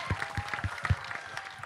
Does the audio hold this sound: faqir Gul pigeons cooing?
no